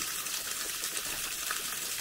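Steady broadband gush of water running from a spring or tap at a partly frozen water spot in a forest camp, continuous and close with no talking.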